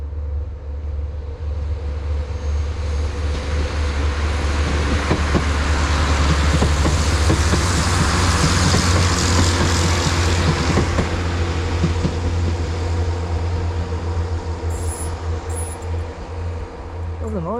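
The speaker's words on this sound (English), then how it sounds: "Now the train's coming." A train passes outdoors by the tideline, its broad rumbling roar swelling to a peak midway and then slowly fading, with faint squeaks near the end.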